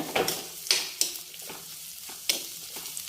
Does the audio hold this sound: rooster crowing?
no